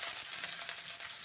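Curry leaves, ginger, garlic and green chili sauté in hot oil in a pan, giving a steady, close, loud crackling sizzle with no talk.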